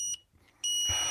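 A carbon dioxide monitor alarm goes off after breath is blown into the unit: a short electronic beep, a brief gap, then a sustained shrill tone that continues to the end, loud and close with no talking.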